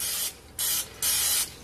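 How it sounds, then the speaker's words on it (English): Three short hissing bursts of cooking spray from a can onto a waffle maker, evenly spaced, close and crisp, with brief quiet between them. "I give a little spray because I don't want it to stick."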